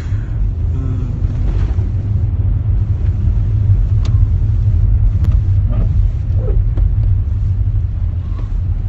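Steady low road rumble of a car driving, heard from inside the cabin, loud and continuous with faint scattered clicks and no talk over it.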